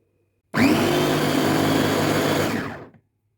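A kitchen blender grinds cooked zucchini into a smooth mass for ketchup, running loud and steady for about two and a half seconds before spinning down, with no talk over it.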